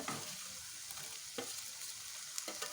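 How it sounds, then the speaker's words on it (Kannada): Chopped tomatoes go into onions frying in oil for vangibath gojju, a steady soft sizzle close by with a few brief stirring scrapes and no voices. "ಈಗ ಈರುಳ್ಳಿ ಬೆಂದಿದೆ ಇದಕ್ಕೆ ನಾನು ಟೊಮೊಟೊ ಹಾಕ್ಕೊತಾ ಇದ್ದೀನಿ"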